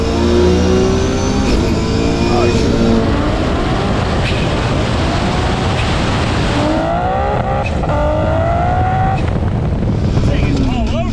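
A 1100hp Nissan R32 Skyline GTR street car drives with a loud, constant engine roar that rises and falls as it revs, heard from inside the car, with voices talking over the noise.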